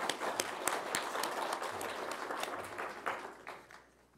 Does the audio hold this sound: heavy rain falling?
no